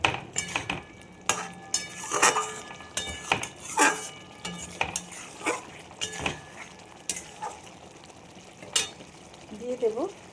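Egg curry cooking in a pan after a little ghee goes in: steady stirring with repeated spoon scrapes and clinks against the pan, a low simmering sizzle underneath, close and fairly busy, with a voice speaking now and then.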